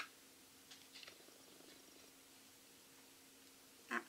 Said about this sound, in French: Ah, le chat arrive.